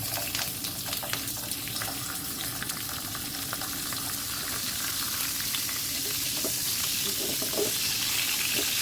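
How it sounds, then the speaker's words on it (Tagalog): Tuna head frying in a pan of oil, a dense steady sizzle and crackle holding throughout with scattered pops and a watery hiss, growing slightly fuller toward the end. "meron tayo ditong ulo ng tuna. Piprituhin natin yan."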